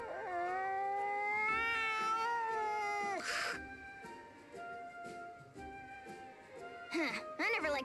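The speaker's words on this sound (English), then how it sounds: "There, that's a good kitty. Hey, little kitty." Cat meows in the video game Bravely Second: End Layer, a few drawn-out tonal cries heard close and clear over quiet game background.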